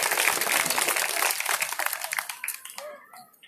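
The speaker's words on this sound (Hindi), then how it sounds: "तो दामोदर गुरु और हर्ष इनके लिए भी आप लोग ताली बजाए" Crowd at a Bhagwat religious discourse in New Ashok Nagar, Noida, clapping in a thick burst of applause that thins out and dies away over the last second.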